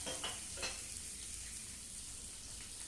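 Onion, nigella seeds and boiled green banana sizzle quietly in a pan, a steady soft frying hiss with a few faint stirring scrapes near the start.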